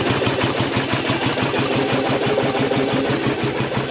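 A Yamaha XV750 motorcycle engine runs roughly after carburetor and plug work, a loud, steady close-up idle with an uneven, lumpy pulsing beat and no voices over it.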